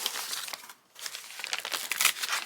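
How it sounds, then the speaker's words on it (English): Paper being torn and crinkled by hand for a handmade junk journal, a close, crisp series of rips and rustles with one short pause partway through. "Now if I tear off a bit of that paper,"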